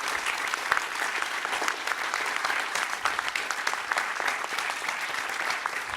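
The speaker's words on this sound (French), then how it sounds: "j'aimerais que vos applaudissements soient dirigés envers Élodie, Christine, Anne, Fabienne" A seated audience at a round-table conference on ethics and management applauds the event organisers, a dense, steady wash of many hands clapping that holds evenly for the whole stretch without pause.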